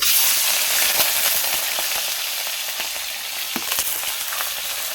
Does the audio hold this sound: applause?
no